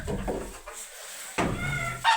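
A bantam hen squawks in short, loud bursts from nearby in a backyard coop during cleaning, with brief quieter gaps between the cries.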